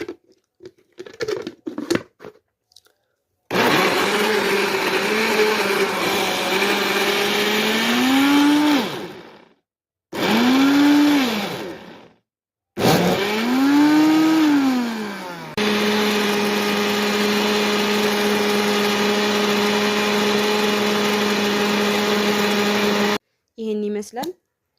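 A kitchen blender grinds avocado juice with two spoons of sugar, running in loud bursts with whirring pitch swells, pausing briefly between runs, then a long steady high whine before stopping.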